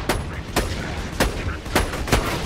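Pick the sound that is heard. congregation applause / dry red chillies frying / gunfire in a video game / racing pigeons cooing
gunfire in a video game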